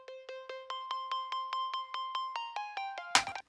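A square-wave synth lead with distortion, compression, delay and reverb plays about fifteen evenly spaced, bright plucked notes in a quick steady pulse, ending in a short noisy burst.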